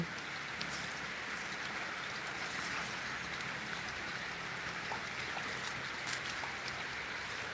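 Rain falling outdoors on a farm, a steady soft hiss of drops with scattered sharper patters, fairly quiet and continuous with no talk.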